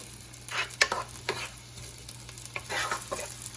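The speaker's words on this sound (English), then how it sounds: "I'm going to sweat this out and I'm going to just kind of let it all melt together." Zucchini sweating in a pan sizzles steadily, with bursts of stirring and utensil clinks over a continuous frying hiss.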